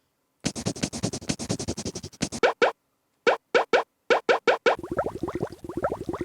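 A rapid series of short electronic bleeps and boops from a 1999 Apple iBook's system sounds, first in a fast run, then spaced pops after a pause, ending in a buzzy warbling tone.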